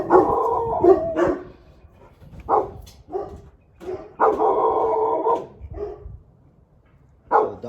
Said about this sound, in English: So the dogs are barking at the people walking by.